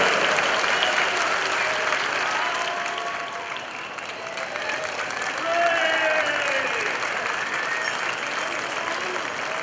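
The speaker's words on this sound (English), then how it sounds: "Give them a big round of applause." Crowd at a St Patrick's Day parade in Sydney, Australia, applauding in a long, steady, dense wash of clapping with a few faint cheers mixed in.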